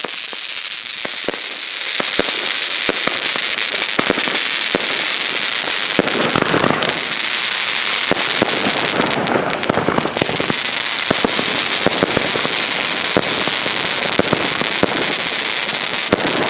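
A continuous barrage of firework shots crackles and bangs in rapid succession, loud and dense throughout, from a 31-shot Weco Dare Devil consumer battery firing off.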